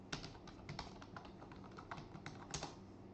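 Quick, light key presses on a computer keyboard as a username and password are typed in, close-up and steady with no talking.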